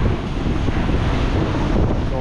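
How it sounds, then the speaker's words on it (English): Strong wind roars and buffets the microphone in a steady, loud rush with no clear speech, on a street in Blackpool near the train station. "Wow, it's really windy."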